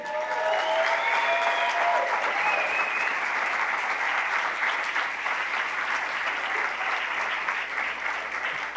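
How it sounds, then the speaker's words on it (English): Applause from an audience at a club event, honouring a Paralympic champion: steady, even clapping sustained for nearly nine seconds, with a few voices calling out at the start. "give her a round of applause, please"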